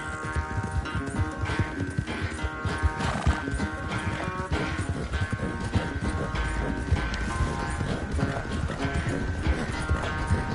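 Horse galloping in Red Dead Redemption 2, a steady rapid clip-clop of hooves with occasional neighs and whinnies, loud and continuous over game music and ambient sound.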